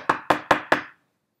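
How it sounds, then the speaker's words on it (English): A large knocker bangs on a cave door with four sharp, evenly spaced knocks, each with a short ringing decay, and then silence. "She took hold of the knocker and banged on the door."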